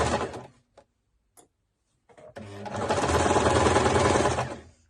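An old mechanical sewing machine runs in short bursts, then double-stitches a bag steadily for a couple of seconds with a rapid, rattling clatter, close and fairly loud.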